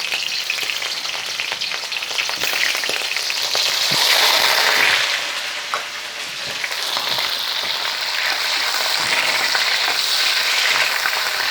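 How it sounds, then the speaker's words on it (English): Shrimp dropped into a pan of hot canola oil fry with a loud, continuous sizzle and crackle that swells and dips slightly, steady and close with no talking. "So we got this oil heated up, so we're going to just drop in our shrimp here."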